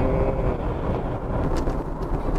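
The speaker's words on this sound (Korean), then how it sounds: "워낙 지금 풍절음이 심해가지고" Dense, steady wind roar from inside a Renault Captur 1.5 dCi diesel driven in the rain in eco mode, heard as an even broadband rush with no voices.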